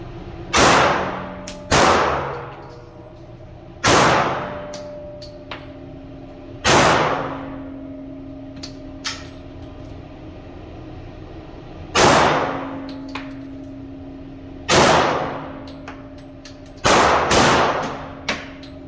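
A gold .50 caliber Glock pistol fires hand-loaded 300-grain rounds. Eight loud, sharp shots ring out at uneven intervals across the clip, each one a hard crack followed by a short ringing decay, with no talking.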